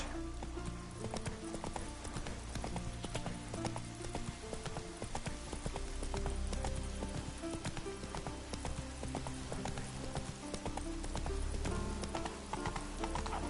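Roach, the horse in The Witcher 3: Wild Hunt, gallops with a steady, rapid clip-clop of hooves that runs close and loud throughout, over faint rain-like patter and a low rumble.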